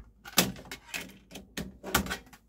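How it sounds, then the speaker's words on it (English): The disc tray of a Yamaha CDC-625 5-disc CD changer, untouched for years, closes with a series of scraping, creaking mechanical clicks and bumps, close and alone. "It is making an awful creaking noise when it closes"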